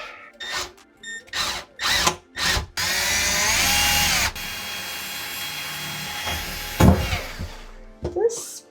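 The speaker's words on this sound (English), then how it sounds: "We're gonna drill our little pre-drill holes." A power drill whirs in short bursts while drilling pilot holes in a wall, then runs in one long steady spin before stopping, with thumps and handling noises around it.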